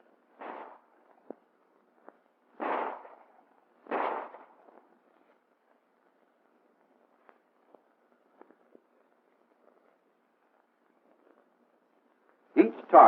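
Handgun fired with live tracer ammunition during US Army combat shooting practice: a few sharp, fairly distant reports spaced seconds apart, long quiet gaps between them, and a louder close pair of shots at the end.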